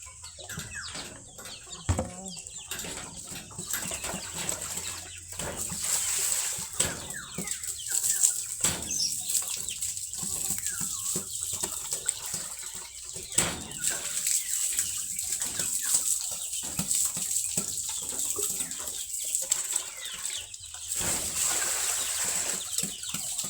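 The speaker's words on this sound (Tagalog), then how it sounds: "Tapos tayo sa mga inahin" Hens clucking in a farmyard coop, a steady run of close, overlapping clucks and short calls over a constant background hiss, with occasional wing flaps and no talk.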